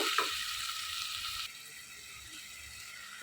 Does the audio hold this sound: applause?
no